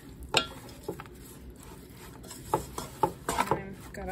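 Chicken curry being stirred in a crockpot, with a few soft scraping and clinking hits of the spoon against the pot, spaced irregularly, close and fairly quiet over a low background hum.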